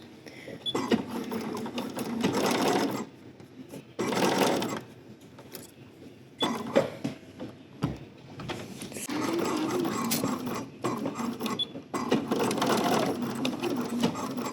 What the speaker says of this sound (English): We're going to stitch that right along that seam allowance first.